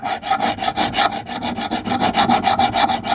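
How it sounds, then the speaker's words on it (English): A metal file rasps against a shredder blade to scrape off muck, in a steady rhythm of about a dozen quick back-and-forth strokes, close and loud with no talking. "we'll just clean it first, look, with the file"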